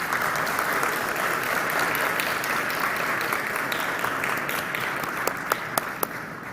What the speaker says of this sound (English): please join me in giving our award recipients another big round of applause